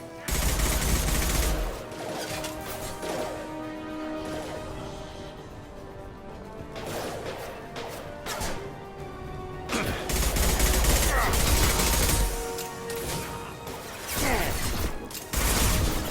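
Gunfire in Mass Effect 2 rattles in heavy, dense bursts with crashes and impacts, swelling and easing over a long firefight, while game voices speak briefly amid the shooting.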